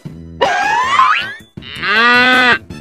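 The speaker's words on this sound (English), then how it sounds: "A cow makes a moo sound." A cow moos twice in close succession, two loud, drawn-out tonal calls heard alone.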